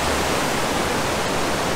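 River flowing along a road trip route toward the Albula Pass, a steady dense rush of water, loud and close, with no other sounds standing out.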